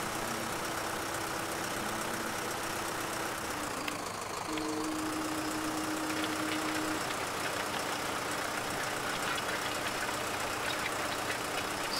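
Steady tractor engine idling and running in the farming game Landwirtschafts-Simulator 15, a continuous mid-pitched drone with a faint tonal hum, loud and close throughout with no talking.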